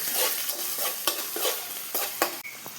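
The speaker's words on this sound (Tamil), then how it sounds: "கட் பண்ணி வச்ச வெங்காயத்தை போட்டு கிளறணும். நல்லா கிளறிடணும்" Sliced onions frying in a pan for mushroom gravy, with a steady loud sizzle broken by sharp spoon scrapes and clinks as they are stirred every half second or so, close up and without voices.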